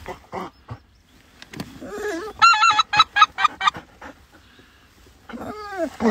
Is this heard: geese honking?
yes